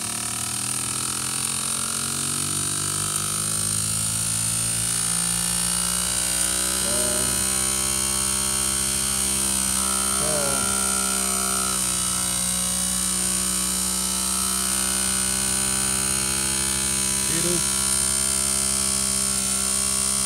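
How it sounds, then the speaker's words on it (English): Electric motor running steadily with a continuous close whine and hum, its pitch shifting slightly over time, with no voices. "the motor is running very low"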